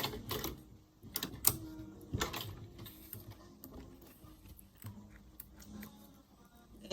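Sewing machine stitching through the handle of a structured fabric handbag, producing quiet, uneven mechanical clatter and ticking in short bursts with pauses.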